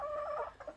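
A rooster named Chris makes a run of clucking, warbling courtship calls at hens, steady for about half a second, then two short broken notes, moderately close with no talking.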